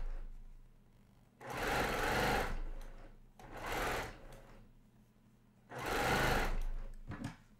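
Sewing machine stitching quilt pieces for a giant friendship star quilt, three loud rapid bursts of stitching separated by short quiet pauses, close by.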